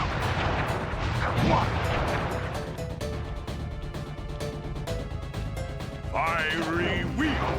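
Flame Foo firework attack from the Sly Cooper video game: a dense barrage of crackling, popping bursts with rising whistling streaks, loud and continuous throughout, mixed with game effects and no speech.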